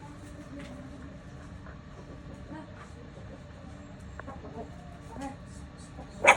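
Chickens clucking near a household with a puppy: scattered, faint clucks over a steady low rumble, with a sharper, louder call right at the end.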